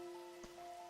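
Rain ambience from the Rain Code video game: faint, steady rainfall hiss with soft tonal hums and one brief thump, no voices.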